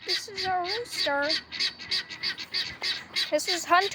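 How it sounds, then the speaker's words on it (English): A rooster with a frostbitten comb, tangled in a net, lets out a rapid series of harsh, honking squawks and clucks close by, some longer calls followed by quick choppy bursts. "This is our rooster."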